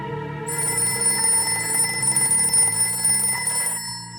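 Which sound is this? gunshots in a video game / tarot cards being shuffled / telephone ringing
telephone ringing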